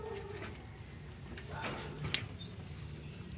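Pigeons cooing softly in a loft, a few faint low calls under steady background noise with a voice speaking nearby.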